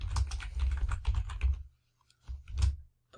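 Close computer keyboard typing in quick bursts of clacking keystrokes, broken by a brief pause before a final short flurry of keys, with no voices.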